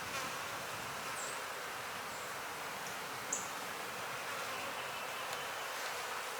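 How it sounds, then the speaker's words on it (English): Honeybees drone in a dense, steady buzz from an opened hive colony during a beekeeping inspection of a small split, soft and continuous, with occasional individual bees passing closer and no speech. "There's a lot of bees in this colony."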